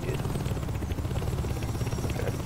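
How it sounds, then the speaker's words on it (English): A steady, rumbling helicopter rotor drone in Saints Row 2 churns at moderate volume with a rapid chopping pulse, and no clear talking. "Lower the helicopter so the Saints can grab out to the helicopter's gate."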